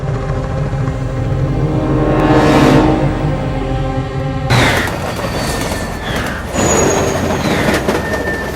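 A train bound for Tokyo in the 1970s runs along the tracks in a vampire film, a loud rolling rumble with a swelling whoosh, sharp squeals and metallic clatter from the wheels.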